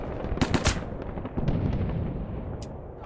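Several sharp gunshots crack out close together in Mud and Blood Pacific, a tight cluster of reports early on and a few scattered shots after, over a steady rumbling battlefield din with no speech.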